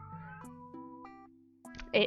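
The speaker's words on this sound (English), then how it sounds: "Also, apologies for cat noises again." A house cat meows several times in a row, rising and falling tonal cries close to the microphone, ending in a louder, harsher yowl.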